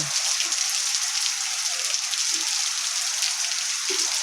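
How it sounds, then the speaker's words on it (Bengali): Heavy rain pours down in a steady, dense hiss of drops on surfaces, loud and unbroken throughout with no voices. "কেমন বৃষ্টি হচ্ছে প্রচুর বৃষ্টি হচ্ছে প্রচুর"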